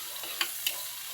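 Chopped tomatoes and onion sizzle steadily in a hot pan while a spoon stirs them, giving two quick scraping clicks over the continuous hiss, close and alone.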